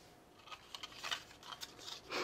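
Quiet, close snips of scissors cutting out a paper card piece taped in place, a handful of short crisp cuts in an irregular rhythm with a slightly longer cut at the end.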